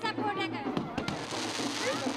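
Fireworks bursting at a crowded street celebration, several sharp pops over a dense roar of crowd noise and voices.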